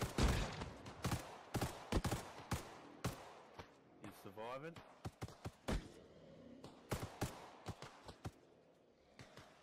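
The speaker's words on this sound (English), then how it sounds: "Watch out, he's shooting." Gunfire in the survival video game DayZ, a run of sharp shots cracking out in quick bursts and single reports across the clip, with excited talk and shouting mixed in around them.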